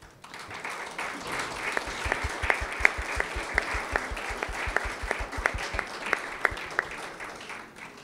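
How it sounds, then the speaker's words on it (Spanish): An audience at an evening talk in Monclova, Coahuila, applauds steadily, with many hands clapping in a dense, even roar and some sharper individual claps standing out. The applause holds fairly loud throughout with no speech over it. "Brindemos un nuevo aplauso."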